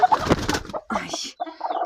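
Hens settling broody on a nest cluck softly up close in short, broken bursts, with brief pauses between the murmuring calls.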